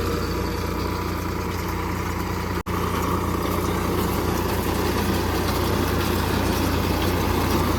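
Solis 4515 tractor engine idling outdoors, a steady continuous diesel rumble at a constant level throughout, close by, with one brief dropout partway through and no talking.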